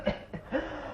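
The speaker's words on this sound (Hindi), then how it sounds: "ये भगवान, ये खांसी" A few short, dry coughs in quick succession, heard fairly close and alone within a Hindi radio drama skit.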